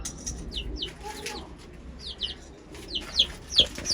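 Several chicks cheep in scattered high peeps, some in quick pairs, with light rustling and a soft flutter between calls.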